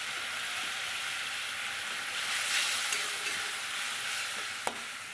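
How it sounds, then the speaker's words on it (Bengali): Spice paste with chopped tomato sautéing in a pan for a Bengali koi fish curry with cauliflower, a steady close sizzle with soft stirring scrapes and one sharp utensil clack near the end. "এবার মশলাটাকে একটু ভালো করে কষিয়ে নেব"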